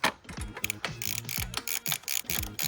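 A hand ratchet clicks rapidly while bolts are backed out, close, sharp ratcheting strokes in quick repeated runs with no talking.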